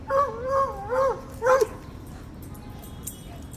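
A dog gives three quick barks, the last rising into a short howl-like yelp, then the scene falls quiet with faint background noise.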